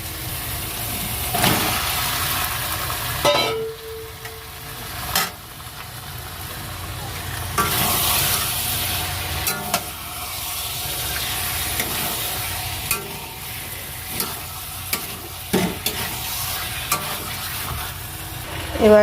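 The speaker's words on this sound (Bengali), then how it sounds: "এবার চিকেনটা দিয়ে দেবো।" Chicken pieces sizzle and fry in oil with a half-cooked spice masala for biryani, hissing steadily as a spoon scrapes and stirs the pan with repeated clanks and knocks.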